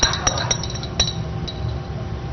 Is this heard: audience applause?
no